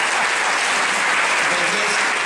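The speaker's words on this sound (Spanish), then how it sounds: "Aplauso aquí para el líder." An audience at a business meeting breaks into loud, sustained applause, dense clapping that fills the short moment close by.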